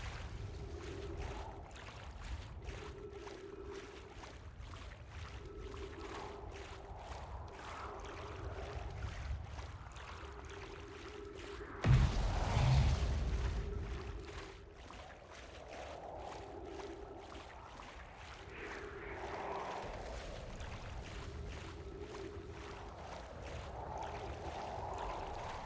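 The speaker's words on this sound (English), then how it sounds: "Are you guys hearing any water that is like sounding like a waterfall?" Continuous rushing water like a waterfall in Outer Wilds, a soft steady wash under repeating low tones, with one brief louder burst midway.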